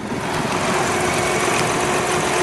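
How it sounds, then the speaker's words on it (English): A steady, smooth engine hum from a 2014 Mini Cooper's turbocharged three-cylinder runs throughout with a faint higher whine, constant and unbroken, heard from inside the car. "this is probably the smoothest 3-cylinder engine I've ever driven."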